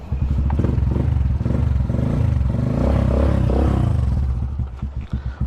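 A motorcycle engine warming up, the bike due for a front shock oil seal replacement: a steady, close idle with a rapid pulsing chug and some rattling clatter, easing off toward the end.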